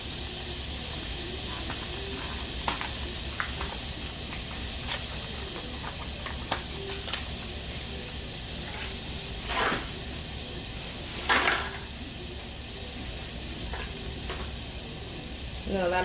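Linguine simmering in a shrimp and scallop cream sauce, sizzling with a steady hiss, close up and loud, broken by a few scraping stirs; no one talks.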